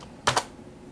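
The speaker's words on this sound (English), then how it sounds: "This typing is finished." Two quick, close keystrokes clack sharply on a computer keyboard in a short burst, then quiet room tone.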